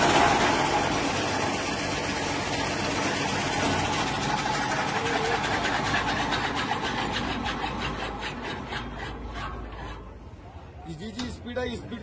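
Fodder cutting machine at an agricultural show, rated to chop 2.5 to 3 tons of fodder, running with a loud continuous whirring, rasping roar that gradually fades toward the end, with people talking over it.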